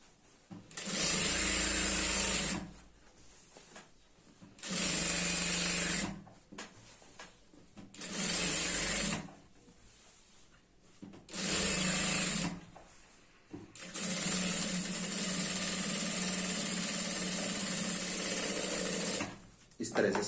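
An electric sewing machine stitches a girl's skirt in five separate runs of rapid whirring, the last one long and continuous, with quiet pauses between bursts.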